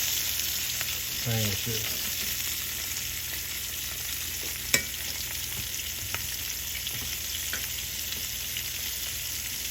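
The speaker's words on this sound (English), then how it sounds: "I'm gonna brown it again a little bit more on the other side" Chicken pieces brown in a pan with a steady, loud, close sizzle that holds for the whole stretch, broken by a sharp utensil tap midway, while a person briefly says a few words early on.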